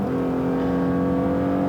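A 2018 Lexus GS 450h F-Sport hybrid engine holds steady high revs through its CVT, giving a constant droning hum with strong tonal harmonics, loud and close with no talk.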